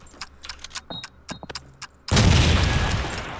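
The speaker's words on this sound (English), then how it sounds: "that nade lands right on top of Will" A grenade explodes in a competitive multiplayer shooter match, arriving as a sudden heavy boom that follows a run of sharp, scattered gunfire clicks and then trails off into a long, rumbling decay.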